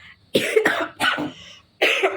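Three rough coughs in close succession, then a fourth after a short pause, loud and near, with no talking.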